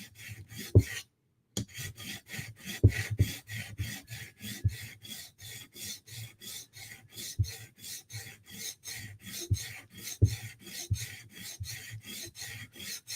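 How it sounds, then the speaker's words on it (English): A knife blade drawn repeatedly across a sharpening stone to grind its leading edge, close rhythmic rasping strokes at a steady pace with a brief pause early on. "our leading edge is still has Sharpie on it, so we just gotta grind on this damn thing"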